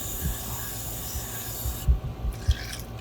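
Faux sea glass pieces being rinsed with water outdoors: a steady wash of running, splashing water with a few soft knocks and rubbing sounds, close by and fairly quiet, with no talking.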